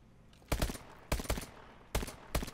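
Video game gunfire in an online match: three loud, sharp bursts of rapid shots about a second apart, each a short cluster of cracks over a quiet background.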